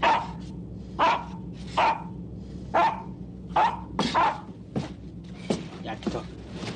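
A dog barks in a scene from a 1958 Polish film about a submarine, about ten sharp barks and yips in an irregular rhythm, close and clear, with speech in between.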